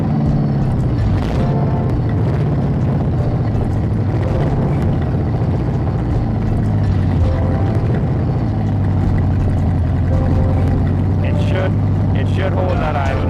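A loud engine idles steadily after a cold start, a deep droning hum with a wavering low tone, while a person talks over it throughout.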